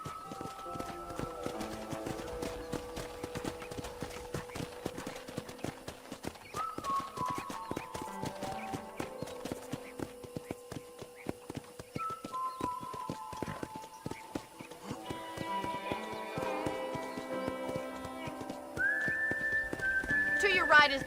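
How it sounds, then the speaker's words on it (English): Horse hooves clip-clop steadily during riding in the Red Dead Redemption video game, a rapid rhythmic patter under game music and ambient sound. "let's see if you can still ride a horse"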